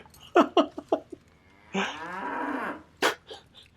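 A cow lets out one long, loud, close moo lasting about a second, after several short indistinct sounds and before a brief sharp noise.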